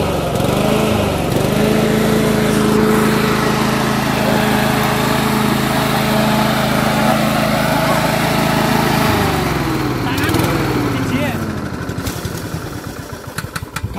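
A Duricut 820 lawn mower with a 159cc engine runs loudly and close by, holding a steady droning pitch before the tone shifts and the engine note roughens and fades near the end.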